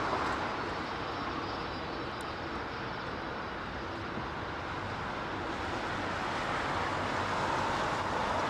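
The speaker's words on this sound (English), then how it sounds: "Now those cold stream reversers there, albeit very derated." A landing airliner at Heathrow roars steadily under its derated cold stream thrust reversers, a broad continuous rumble with wind buffeting the microphone throughout.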